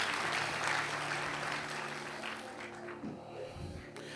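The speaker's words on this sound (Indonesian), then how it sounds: "Boleh tepuk tangan buat Tuhan Yesus." A church congregation claps in praise, a steady wash of applause filling the room before thinning out toward the end, with a few faint voices underneath.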